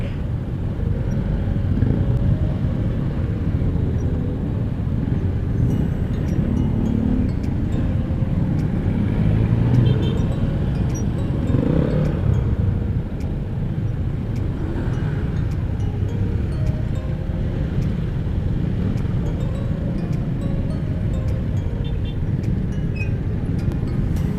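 Steady road traffic rumbles around a motorcycle taxi riding through congested Commonwealth Avenue, with continuous engine drone, wind buffeting and passing vehicles blending into a constant low roar for the whole stretch.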